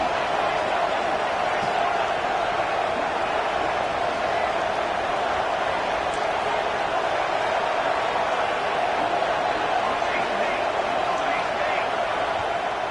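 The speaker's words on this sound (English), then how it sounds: "And here comes the noise. This crowd is trying to inspire this defense to make a big red zone stop." A packed college football stadium crowd at an RU versus Minnesota game roars to urge the defense toward a red zone stop, a dense, steady wall of cheering that stays loud and unbroken throughout.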